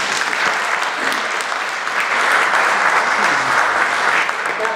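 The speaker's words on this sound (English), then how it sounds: "that deserves a round of applause" An audience at a council gathering marking Albanian Independence Day gives sustained applause, an even, dense patter of many hands clapping throughout.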